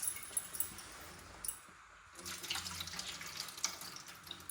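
Water splashes and runs steadily, like water poured from a tap into a sink, with a brief pause near the middle before flowing again.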